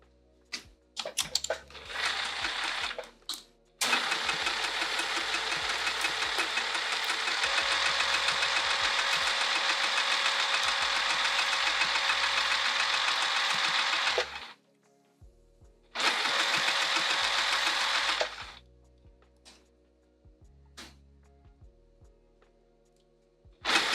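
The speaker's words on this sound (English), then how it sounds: "let's go to the machine and sew this down" A sewing machine stitches down a fabric bag in long, loud motor-driven bursts, one running about ten seconds and others shorter, with quiet pauses between and no talking.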